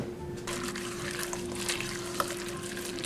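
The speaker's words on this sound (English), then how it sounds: "I'm going to put just about a 1/4 cup of milk." About a quarter cup of milk poured into a mixing bowl, giving a steady, close liquid splashing and trickling that runs for several seconds.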